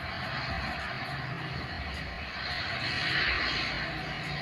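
A CN235 transport aircraft built by PT Dirgantara Indonesia, running on palm-oil-based fuel, gives a steady broad engine roar that swells slightly toward the end, heard alone without talk.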